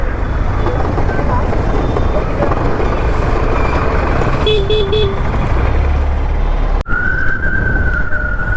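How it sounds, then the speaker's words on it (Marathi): Road traffic on the way to Trimbakeshwar, with several short car horn toots midway over a constant loud engine and road rumble, followed by a sustained higher horn tone near the end. "ट्रॅफिक लागला इकडे."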